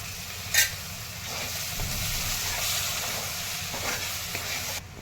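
Spiced masala with curd sautéing and being stirred in a pan for dhaba-style dum aloo, a steady close sizzle with scraping stir strokes throughout.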